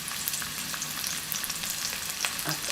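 Garlic and celery stalks stir-frying in a hot pan give a steady, close, dense sizzle with scattered crackles and light scraping from stirring, with no voices.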